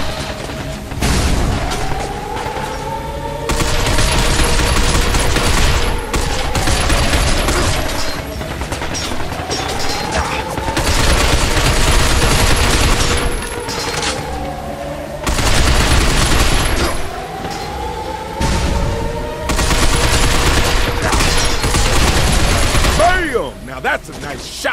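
Gunfire at robots in Binary Domain: repeated loud bursts of automatic fire in long stretches separated by short pauses, with mechanical whirs and booms mixed in. Voices speak over parts of it.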